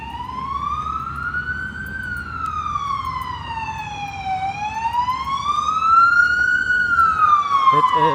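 A medical emergency vehicle siren wails loud and close on a street in Avondale, its pitch sweeping slowly up and down in a long rising-falling cycle over steady traffic rumble.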